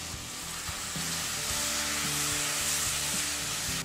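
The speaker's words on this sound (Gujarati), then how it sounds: "પાણી નાખ્યા વગર જ 1-2 મિનિટ માટે ટમેટાને સાંતળી લેવાના છે" Chopped tomatoes sauté in a pan without water for tomato soup, giving a steady close sizzle with occasional stirring clinks and scrapes.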